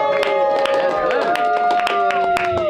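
A comedy club audience claps and cheers loudly for a comedian coming on stage, with dense, steady applause and a voice calling out over it.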